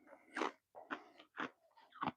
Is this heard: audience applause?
no